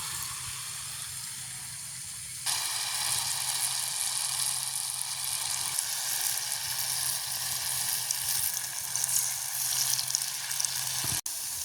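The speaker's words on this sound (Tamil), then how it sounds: "எங்களுக்கு வந்து எண்ணெய் எல்லாம் கொதிச்சிடுது" Susiyam sweets dropped into boiling oil in a village setting, with a sudden swell into a loud, continuous bubbling sizzle that holds steady, close up with no talking.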